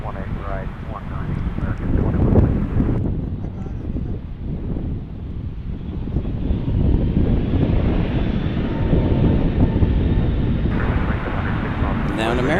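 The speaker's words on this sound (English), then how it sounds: "Now an American 737 departing" American Airlines Boeing 737 departing DFW airport, a steady loud jet engine roar with wind noise across the microphone, sustained throughout with occasional voices underneath.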